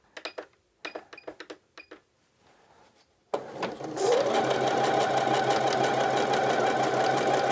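A sewing machine stitches a dart in an A-line skirt: a few short bursts of stitching with pauses, then a sudden steady, loud run of rapid mechanical whirring to the end.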